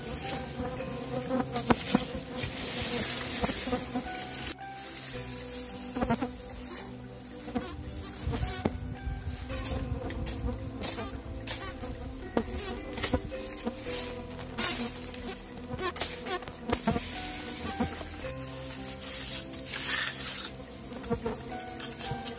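Stingless klanceng bees swarm around a hive box set into a house foundation, a dense, steady insect buzz with many overlapping wingbeats filling the scene, close and continuous with no talking.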